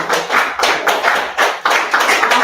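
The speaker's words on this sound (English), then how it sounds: "So let's put our hands together as we bring to the stage Mr. Mayowa Owolabi." Audience at a masterclass event clapping in rhythmic bursts, close and fairly loud, with regular pulses of hand claps repeating roughly every half second.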